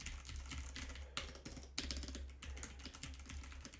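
Typing on a computer keyboard placed behind an Elgato Wave 3 microphone, rapid irregular key clicks in bursts with short pauses, faint and slightly distant, heard alone.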